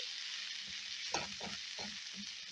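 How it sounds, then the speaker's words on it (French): Bell pepper and chives stirred in a pan over a steady, faint hiss of frying, with four or five soft spoon scrapes and knocks in the middle. "Mélanger le tout."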